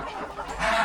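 Hen clucking near a nest of eggs, a brief close cluck rising at the end of a short stretch.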